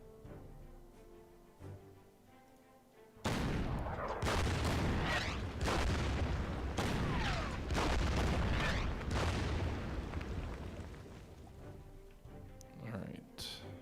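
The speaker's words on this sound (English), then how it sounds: "Meanwhile, the artillery." Artillery fire in the World War II strategy game Order of Battle, Khalkin Gol battle: a sudden loud barrage of booms and overlapping blasts lasting several seconds, then tapering into scattered softer explosions.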